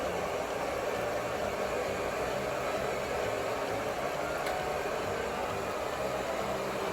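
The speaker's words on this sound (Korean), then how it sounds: "머리를 한번 말려볼게요." A hair dryer drying freshly washed hair blows with a loud, constant whooshing roar that stays steady and close from start to finish.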